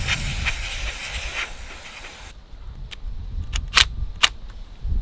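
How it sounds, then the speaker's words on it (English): Water sprays in a steady hiss as a Honda HRR216 lawn mower carburetor bowl is rinsed out, then breaks into short bursts of spray and splashing. "I'm just gonna wash the bowl out a little bit."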